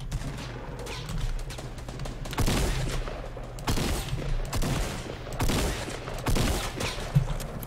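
Gunfire in the video game Fortnite, several loud bursts and single shots cracking out at uneven intervals over a steady background hum, with no talking.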